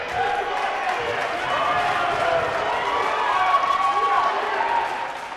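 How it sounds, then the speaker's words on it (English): Crowd noise from fans in a gym at a varsity girls basketball game, Wareham against Barnstable, steady and broad with cheering and clapping that swell slightly midway, mixed with voices throughout. "Unruly fans who are applauding a foul."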